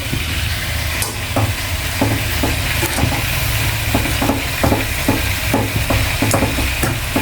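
Saluyot leaves go into a hot pan for a fried vegetable dish with labong and are stirred, giving a steady close sizzle broken by repeated scraping stirs of a utensil across the pan.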